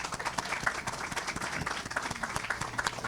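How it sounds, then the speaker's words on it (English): Audience applause at a county health center building dedication, steady moderate clapping from a modest crowd, continuous and fairly even throughout with no voices over it. "Give them a round of applause,"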